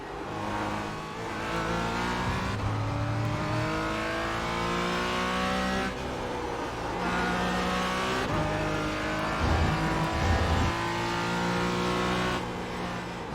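Porsche race car in the iRacing sim, tyres breaking traction on corner exits: a close, continuous engine wail that climbs through the revs, with repeated gear shifts and dips as it brakes and accelerates, heard alone.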